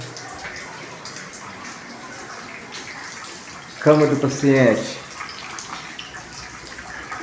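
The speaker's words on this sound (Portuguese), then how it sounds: "Teto vazando água." Rainwater from a heavy storm leaks through a hospital room ceiling beside a patient bed, making a steady patter and splash throughout. A voice speaks briefly over it midway.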